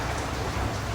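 Steady rain in Karachi falls loud and close, a dense even hiss of drops on surfaces with no voices.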